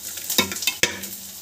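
Nuts and vegetables stirring in a hot pan, two sharp spatula scrapes and knocks over a soft background sizzle, close and brief.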